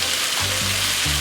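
Butter sizzles in a hot pan with spicy paprika-seasoned chicken wings, a steady close frying hiss that swells sharply as the pats of butter hit the fat partway through.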